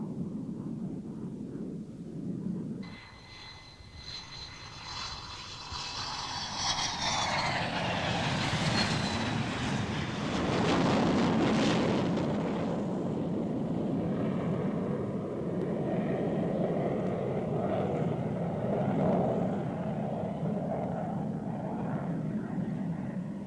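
An F-15 Eagle jet lands with an F-4 chase plane following, the engines building into a loud, broad roar that swells and then holds steady as the aircraft pass close by, with no talking.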